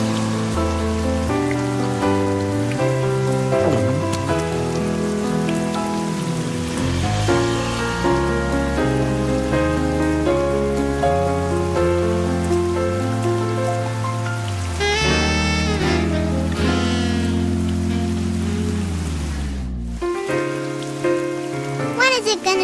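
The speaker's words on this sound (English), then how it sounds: "When is it gonna stop raining?" Steady rain falls in a Peanuts motion comic, a continuous patter running beneath loud, sustained musical tones that dominate throughout.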